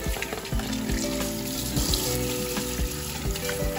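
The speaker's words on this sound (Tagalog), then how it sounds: "Magpapainit na tayo ng kawali and then maglalagay tayo ng cooking oil and maglalagay tayo ng minced garlic." Minced garlic frying in hot cooking oil in a pan, a steady close sizzle with faint stirring and scraping.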